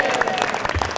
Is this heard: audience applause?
yes